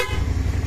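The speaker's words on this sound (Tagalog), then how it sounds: "Busina ulit, test na." A Kymco AK550 scooter's horn gives one short, close honk that fades into a low engine rumble.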